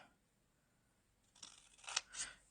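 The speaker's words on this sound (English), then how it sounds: "So I cut kind of along the edge of it, and I'm going to do that on both sides." Scissors snip paper for a handmade gift box, a quiet pause and then two or three quick crisp cuts close by near the end, with no talk.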